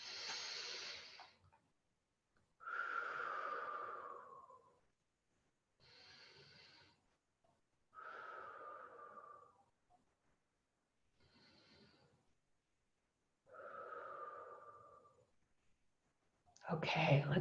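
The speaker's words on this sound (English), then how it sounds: "I'm going to close my eyes and breathe in and out deeply 3 times" Slow deep breathing, three long inhales and exhales alternating with quiet pauses, close and soft, with a louder noise right at the end.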